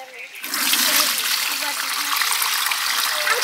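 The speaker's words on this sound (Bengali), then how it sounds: "চালের জলটা ঝাড়িয়ে নিচ্ছি।" Rice-rinsing water being drained off in a home kitchen, a steady close splashing pour of water that runs on without pause after a brief quiet start.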